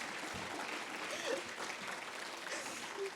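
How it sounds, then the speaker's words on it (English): An audience at the Reno Shelter from the Storm event claps steadily for several seconds, a soft, even patter of many hands in a hall. "She deserves a round of applause"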